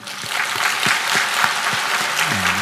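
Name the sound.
congregation applause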